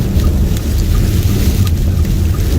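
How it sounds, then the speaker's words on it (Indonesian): A loud storm in Mecca, with heavy rain and a dense, roaring wash of wind and rumbling thunder, close and continuous with no talking. "kena badai di tengah jalan seperti ini ya"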